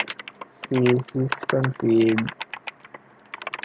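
Key clicks from typing a Linux network configuration command on a computer keyboard, a quick run of taps scattered through the clip, broken up by a man's speech in the middle.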